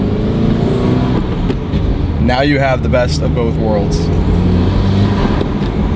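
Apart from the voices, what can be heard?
Subaru WRX exhaust, valves closed, turbo whistle and intake noise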